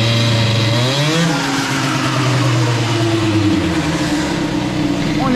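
A moped engine fitted with an Airsal CPI 70 GTR kit and a stock Carters Boost setup, revving loud and close with a rising throttle blip that then holds at a steady high buzzing pitch without talk.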